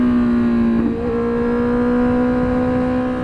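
A custom Honda CBR1000RR motorcycle engine holds a steady, loud high-rpm drone close by, its pitch nearly constant with a slight shift partway through.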